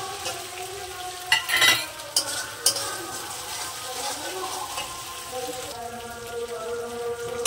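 Masala with tomato and green chilies sautéing in a pan for a fish-head and Malabar spinach dish, with a steady close sizzle and a few scraping stirs near the start, no talking.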